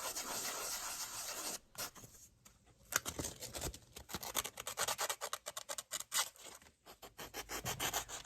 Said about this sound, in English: I'm going to give them a good sanding all the way around, top and bottom and the sides